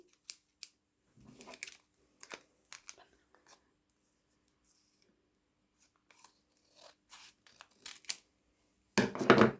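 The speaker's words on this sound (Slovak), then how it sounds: "takže ideme zobrať nožnice" Scissors snip open a FIFA trading card foil pack with a series of short, sharp cuts spaced out over several seconds, ending in a louder rustling crinkle of the wrapper up close.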